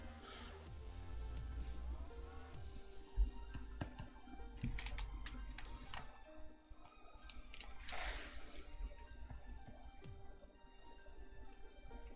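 Keys clatter on a computer keyboard in scattered bursts of clicks at a desk, fairly faint against a steady low background hum, with no talking.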